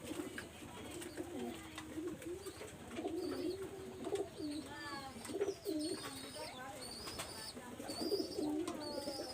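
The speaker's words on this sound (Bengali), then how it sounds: "খুব একটা অ্যাক্টিভ কবুতর।" Pigeons coo repeatedly in soft, throaty bursts, close by, with fainter chirps and occasional handling noise in the background.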